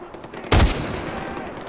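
A single loud, sharp gunshot cracks out in Far Cry 4, sudden and close, followed by a short ringing decay and echo tail.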